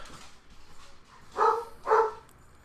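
Two loud dog barks sound close by in a home, spaced about half a second apart, following a stretch of quieter indistinct rustling.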